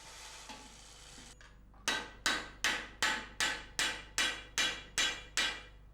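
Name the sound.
hammer blows flattening copper rivets on a cauldron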